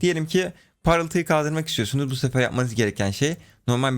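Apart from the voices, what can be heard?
No distinct noise like a dog, phone or traffic.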